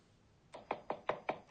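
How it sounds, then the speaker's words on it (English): Knocking on a door as a sound effect, five quick crisp raps in an even rhythm, close and clear against a quiet room with no voices. "Someone's at the door."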